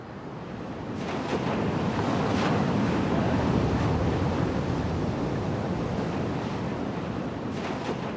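Ocean surf rolls in steadily at a famed Fiji surfing break, with a judging stand set right in the sea, the broad crashing wash rising after the first second and holding loud and continuous, with wind buffeting the microphone.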